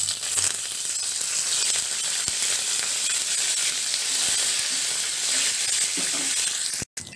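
Cumin seeds and curry leaves fry in hot oil in a pan, giving a steady, close, bright sizzle with a few soft stirring clicks and a brief drop-out near the end.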